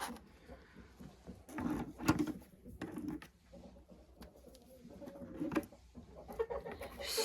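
Laying hens, small chickens of the Marans and common breeds, cluck and squawk near the microphone in irregular bursts, with rustling and some mechanical background noise.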